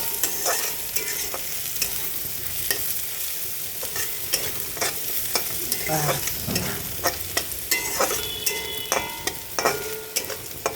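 Whole garam masala frying in a pan, stirred with repeated close metallic scrapes and taps over a constant hiss of hot oil, the strokes growing more regular toward the end; no voices.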